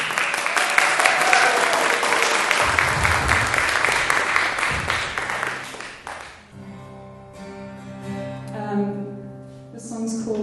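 Loud audience applause and cheering for a singer at a UCA Earthwave show fill the first six seconds, then fade as her music begins.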